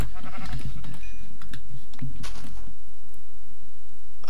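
Blocky video-game sheep bleats a few times in quick succession, close and fairly loud, with light clicking noises over a low rumble and no talking.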